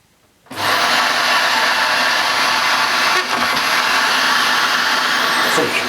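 A Dyson DC28c multi floor cylinder vacuum cleaner switches on after a brief silence, then runs with a loud, steady roaring whine that holds for several seconds. No one speaks.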